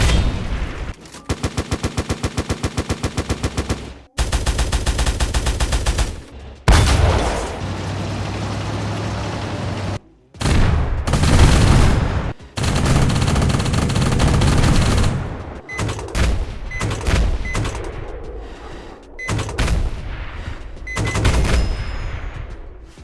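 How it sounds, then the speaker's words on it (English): Tank cannon blasts and gunfire from the Minecraft Superb Warfare mod: rapid machine-gun bursts, then heavy booming cannon shots and explosions, loud and close, separated by brief silences. "These heavy tanks are very detailed and deal a lot of damage with cannon"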